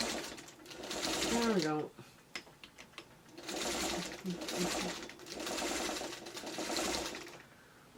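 A sewing machine stitches fabric for a pet bed in several close, loud whirring runs separated by short pauses and a few clicks, with someone speaking briefly between runs.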